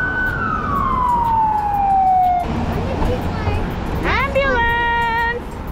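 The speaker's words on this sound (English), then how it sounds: "Ambulance." An ambulance siren sweeps and wails loudly as it passes along a city street near a bus, its pitch falling as it goes by, over steady traffic and engine noise.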